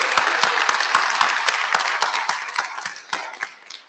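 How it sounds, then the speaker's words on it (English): A round of applause from the audience for the speakers at an IETF lightning-talk session, dense clapping that holds steady, then thins to scattered individual claps toward the end. "Can we please have one more round of applause for all the speakers today?"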